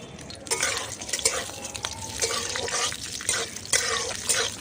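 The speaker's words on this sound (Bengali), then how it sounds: "এবার আমি বাদামগুলো দিয়ে ভেজে নেব।" Peanuts frying in mustard oil in a wok, with sizzling and scraping of a spatula against the pan in bursts, close and fairly loud, no talking.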